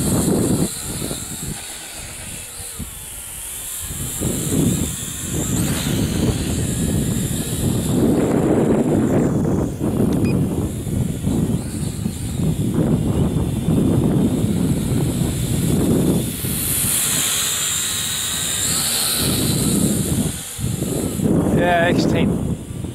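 Wind buffets a microphone outdoors during a test flight of an X10 quadcopter, a loud, continuous rumbling roar with gusting swells and hiss that lasts throughout.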